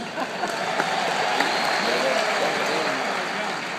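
Applause from a comedy show audience in Kentucky: a dense, steady wash of many hands clapping at once, loud and sustained, with scattered crowd noise mixed in and no pause.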